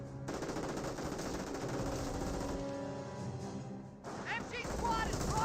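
Rapid machine gun fire from the Company of Heroes video game rattles continuously in sustained bursts, with a commentator talking excitedly over the battle noise.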